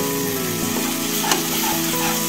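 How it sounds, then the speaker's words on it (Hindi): Gram flour (besan) with spices roasting in a pan gives a steady, close sizzle and frying crackle. Faint stirring scrapes sound underneath, with no talk. "जब तक बेसन अच्छे से भून नहीं जाता।"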